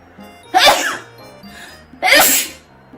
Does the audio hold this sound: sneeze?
yes